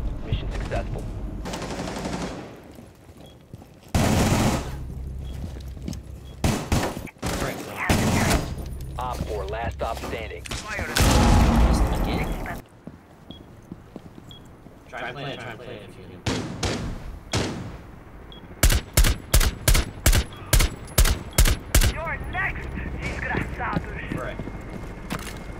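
Rapid automatic gunfire from a video game firefight, with repeated loud bursts and a dense run of sharp evenly spaced shots near the end, mixed with thuds and game noise under occasional talk.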